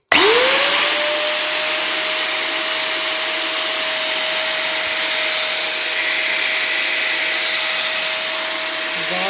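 Bosch GWS 800W 4-inch angle grinder, rated 11,000 RPM, switched on and left running: a loud, close, steady high-pitched whine that spins up at the start and then holds alone.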